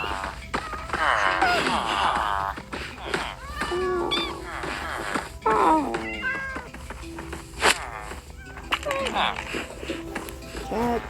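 A cat meowing and caterwauling repeatedly in drawn-out, wavering cries, close and fairly loud, with a person's voice mixed among them.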